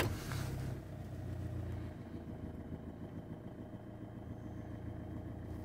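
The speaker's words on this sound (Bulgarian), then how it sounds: "стартираме двигателя." Idling car engine after a start, a steady low mid-pitched rumble with a brief louder burst at the very beginning, continuing evenly throughout with no talk.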